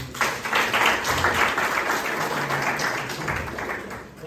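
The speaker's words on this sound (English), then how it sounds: "Right, give them a round of applause." A brief round of applause from a business masterclass audience, moderately quiet and fairly steady for a few seconds before tapering off.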